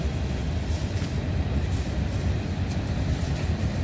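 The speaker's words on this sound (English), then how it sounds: "Uy, may choo-choo train." A continuous low rumble of a passing train with rattling wheels, steady and moderately loud throughout.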